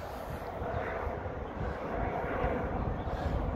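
A police helicopter hovers over a large street demonstration, heard as a steady, even rotor and engine drone with no breaks, moderately loud and distant.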